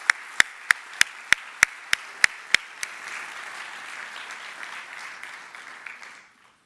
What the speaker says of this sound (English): so please, a round of applause